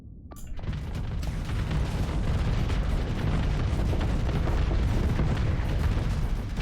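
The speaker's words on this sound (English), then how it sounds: "Explosions." Explosions in a space battle in the video game Starsector roar as a sustained, loud rumbling blast that swells after a sharp opening crack and continues heavily throughout.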